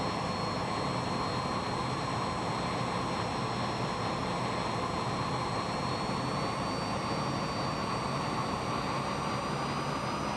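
Aircraft engine roaring in Microsoft Flight Simulator 2020, a steady, loud, dense jet drone with a faint high whine held throughout and no voices.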